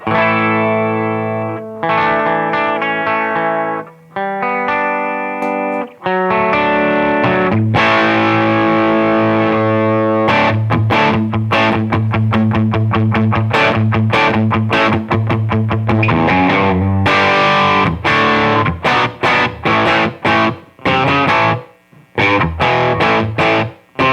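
An electric guitar played through a Barber Electronics Gain Changer overdrive pedal set with gain backed off and volume up gives a loud, slightly driven, boosty tone, first as sustained chords and then as a busy run of quick picked notes, alone without talk.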